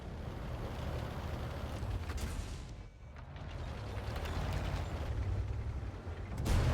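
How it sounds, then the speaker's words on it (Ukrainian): Continuous heavy rumbling tank battle noise in a video game, with booming cannon blasts from a VK 36.01 H tank, loud and dense throughout, a brief lull near the middle and a sharp blast at the end. "Хтось влучно стріляє"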